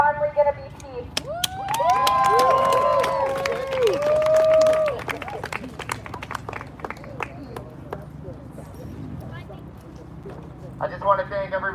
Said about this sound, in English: Everybody give her another round of applause